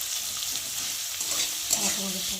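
Chopped onion with a pinch of salt frying in a pan, a steady close crackling sizzle with a slight rise midway and a couple of faint stirring touches near the end.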